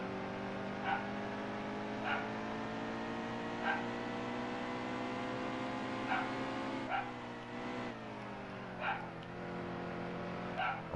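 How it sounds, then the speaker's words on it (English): A dog barks at regular intervals in the background, short sharp yaps repeating about every second and a half, faint under the steady droning engine and tyre noise of a NASCAR Heat 2 race at New Hampshire. "I want to smack the shit out of that dog if she doesn't shut the fuck up"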